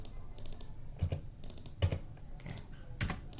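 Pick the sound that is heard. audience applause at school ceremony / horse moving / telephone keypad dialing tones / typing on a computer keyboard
typing on a computer keyboard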